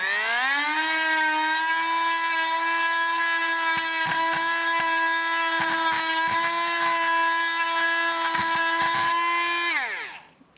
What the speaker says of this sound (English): drill out an area in the back. Sorry for the noise.